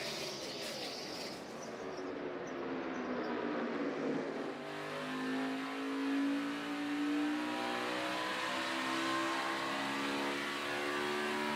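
Stock cars accelerate at a race restart, their engines roaring together in a rising, sustained drone that swells as the field pulls away, loud and continuous with no voices over it.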